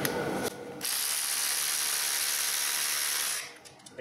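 Ratchet clicking steadily as it backs out valve cover bolts with an E10 socket on a BMW N20 engine, a continuous close buzzing whir for about three seconds before stopping.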